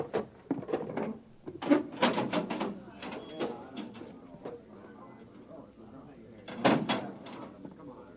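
A heavy door to an underground access manhole opens in a radio drama, with clunks, scrapes and creaks up close. Voices speak between the mechanical knocks.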